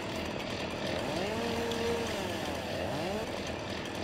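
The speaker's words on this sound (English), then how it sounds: "Let me get my handy-dandy chainsaw out here." A chainsaw in the Farming Simulator 19 game runs steadily, its engine buzzing continuously with slight revving pitch swells, close and unaccompanied by talk.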